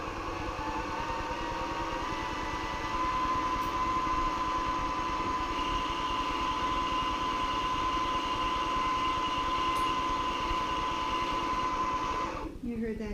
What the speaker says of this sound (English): You heard that distinct change in tone from the machine. That means that the bobbin's done winding